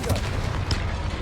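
A Confringo blasting spell goes off in a Harry Potter video game, giving a short booming burst with a dense low rumble and a brief bright crack near the middle, set against busy game sound.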